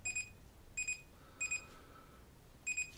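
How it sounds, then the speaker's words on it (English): Four pairs of short, high electronic beeps from a Chinon Info Back DB-010 camera data back sound in a steady rhythm over faint background hiss, each pair a quick double-chirp warning. "So the next one should double beep."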